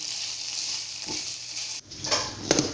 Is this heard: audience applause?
no